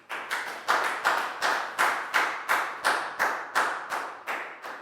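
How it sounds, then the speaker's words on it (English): Year 4 primary students in a classroom clapping together in a steady, evenly spaced rhythm, about a dozen loud unison claps close by with no talking. "High five and a big round of applause for Bangpon, guys."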